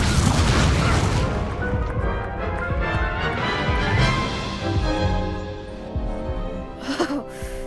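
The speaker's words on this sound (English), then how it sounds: "There goes my Incendio!" Roaring whoosh of the Incendio fire spell in Hogwarts Legacy, a loud, broad rumbling blast of flame and impact noise that fades slightly, with a brief sharp burst near the end.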